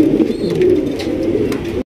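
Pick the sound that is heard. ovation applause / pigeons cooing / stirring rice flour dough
pigeons cooing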